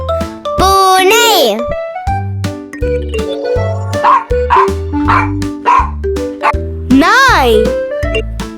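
A pet dog barks and yips in short bursts over a cheerful, rhythmic children's tune, loud and close, with a voice speaking between the barks.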